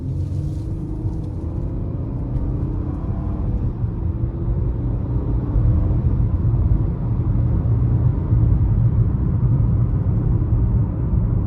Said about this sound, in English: if you do want to give it some throttle, you can punch it and you won't have an issue